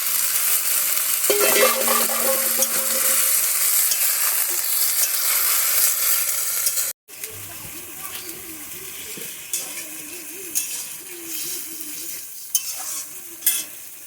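Bengali shukto vegetables sizzling and frying in a pan, then water added for a softer bubbling simmer with occasional stirring clinks and scrapes, close and steady.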